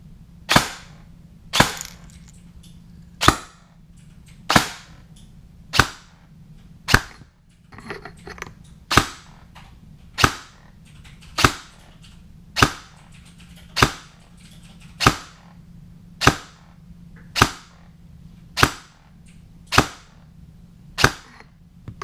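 An airsoft gun with an RHOP hop-up fires 0.3 gram BBs in about fourteen sharp, evenly spaced shots roughly every second and a half, close and clear with no speech.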